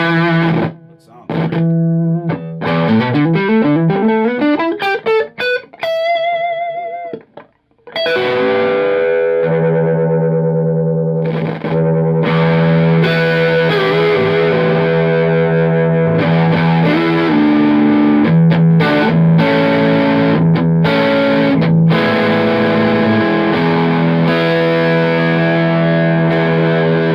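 An electric guitar plays with heavy distortion through an Orange Tiny Terror, Orange Terror Stamp or Friedman Runt 20 amplifier: a rising run of notes, then loud sustained crunchy chords ringing on, close and dominant throughout.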